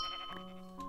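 Sheep bleating in the Minecraft Harry Potter UHC game, a short, steady, nasal bleat filling the moment at moderate loudness with no talk over it.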